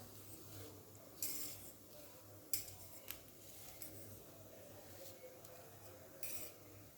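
Cooked biryani rice, steamed and cooled, being turned over in a pot, with faint scraping and clinking strokes at irregular intervals over a low steady hum, fairly quiet and close.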